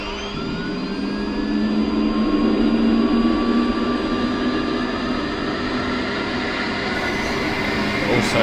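An A-10C auxiliary power unit spools up during a cold start in the DCS flight simulator: a steady, loud mechanical roar with rising whining tones that climb and hold throughout.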